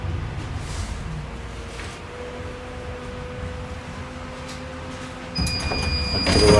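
A Moscow tram on route 47 arrives amid steady rumbling interior noise, then its doors open near the end with a sudden rise in loudness, a mechanical whir and high electric tones.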